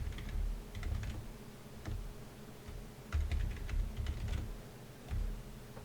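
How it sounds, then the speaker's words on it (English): Keys tapped on a computer keyboard in quick, uneven bursts of clicks separated by short pauses, close up and moderately quiet, with no one speaking. "So I type in localhost."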